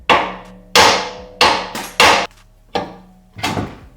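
A hammer strikes a CV axle to knock it out of a Honda Accord hub, six sharp metallic whacks in an uneven rhythm, close and loud.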